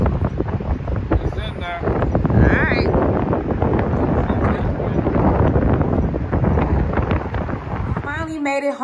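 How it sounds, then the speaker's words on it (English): Strong gusty wind buffets the microphone outdoors, a loud continuous roar with a voice briefly heard near the end. "It's windy as hell out here"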